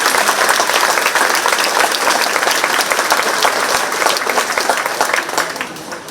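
A large crowd at the Shelby County Fair Queen pageant breaks into loud, dense applause that holds steady for several seconds, then begins to thin and fade near the end.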